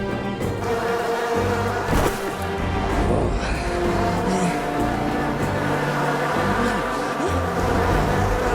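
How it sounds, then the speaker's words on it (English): A loud, dense swarm of bees buzzes continuously in the SMITE video game, with layered droning hums and a brief crash-like burst, set against game music throughout. "Not the bees! Not the bees!"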